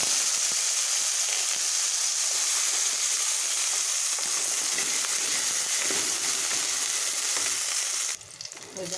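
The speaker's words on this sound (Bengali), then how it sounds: "এবার আমি বেগুনগুলো ভেজে নেব" Eggplant slices coated in salt and turmeric sizzle and fry steadily in hot oil, a dense continuous hiss that stays loud and even before briefly dropping near the end.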